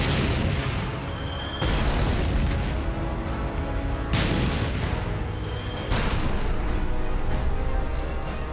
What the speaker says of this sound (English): The lead German tank opens fire with its main gun.